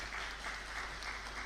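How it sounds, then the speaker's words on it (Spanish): Audience applause welcoming a lecturer at an academic talk on protecting space cultural heritage, a steady, fairly faint wash of clapping from a distant crowd throughout, with no voices over it. "Lo recibimos con aplausos"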